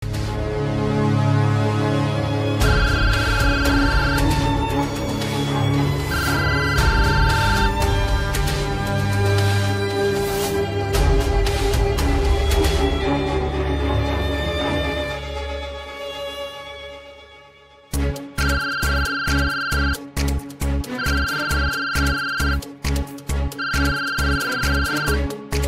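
A phone rings over and over, first beneath loud dramatic music, then alone in sharp, evenly spaced electronic ringtone bursts that repeat clearly and loudly.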